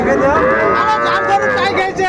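Young bull calves at a cattle market, with a loud, close, drawn-out moo that lasts nearly the whole stretch, other faint calls and crowd noise underneath.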